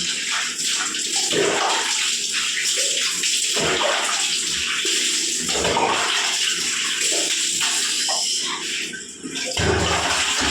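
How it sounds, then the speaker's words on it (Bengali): Water runs and splashes steadily in a home bathroom during a cold-water bath, a loud, continuous rushing that barely lets up for the whole stretch. "রাস্তাতে জলে রাস্তা বন্যা জল হয়েছে সেই জলে ভিজে ভিজে এসে এখন বাথরুমে স্নান করছি"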